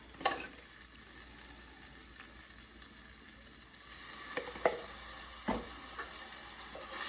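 Shrimp and garlic fry in olive oil in a hot pan, giving a steady, fairly quiet sizzle with occasional small crackles and pops.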